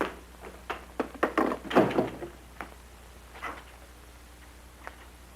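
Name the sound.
door being closed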